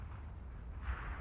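An artillery shell fired and exploding in World of Tanks, heard as a short, heavy low rumble that swells slightly near the end.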